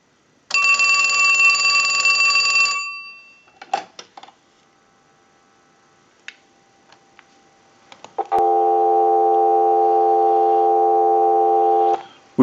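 A Western Electric 2554 wall telephone rings in one loud electromechanical burst, followed by faint clicks and taps, then a steady, loud dial tone that holds for several seconds.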